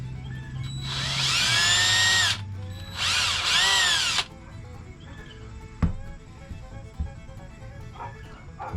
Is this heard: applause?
no